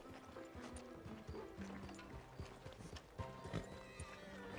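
Horse hooves clip-clopping in the video game Red Dead Redemption 2, a run of irregular close hoof knocks with a short whinny and clattering tack and mechanical clinks, moderately loud with no clear talking.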